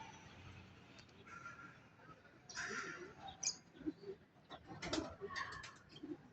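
Pigeons coo faintly outdoors in a few soft, low calls, with light rustling and brief flutters between them while someone speaks quietly.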